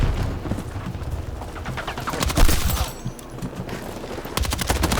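Rapid gunfire crackles in the Battlefield 6 video game, bursts of automatic shots rattling loudly and repeatedly with a short lull midway before firing resumes.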